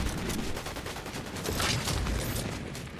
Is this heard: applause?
no